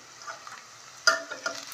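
Onions frying in a little oil while being stirred give a soft, steady sizzle, with light scraping and clicking stir strokes and no voices.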